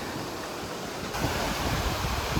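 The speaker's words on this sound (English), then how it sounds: "And so we've made it to the river crossing" A river at a hiking trail crossing on Scafell Pike gives a steady, close, full rushing roar of flowing water, which swells slightly louder partway through, with no voices.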